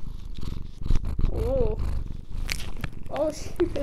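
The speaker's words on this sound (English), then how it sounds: "Can you hear her purring?" A cat purrs close by in a soft, continuous rumbling pulse, while a person speaks affectionately over it.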